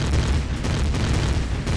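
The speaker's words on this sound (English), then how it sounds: "that's cannon fire, and that's really hard on the front end of your ship" Cannon fire in Empyrion: Galactic Survival, a continuous heavy low rumbling boom pounding against a ship's front, loud and dense without clear breaks.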